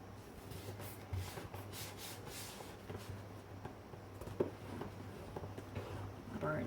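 Paper being burnished flat with a tool while a design sheet is stuck down for a small ATC-size mini album, heard as soft, continuous close rubbing and scraping strokes with faint background hum.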